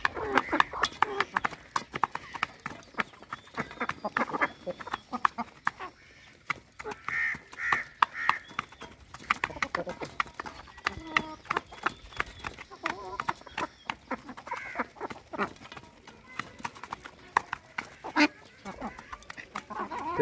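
Aseel chickens cluck and a rooster calls amid a busy barnyard, with people talking over scattered knocks and rustling.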